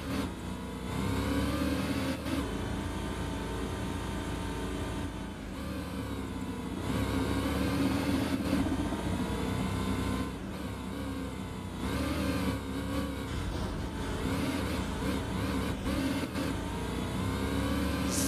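Mercedes CLK GTR race car engine in the World Racing PC game, a continuous loud, high-revving roar held at near-constant pitch throughout with brief dips during gear shifts, and no talking.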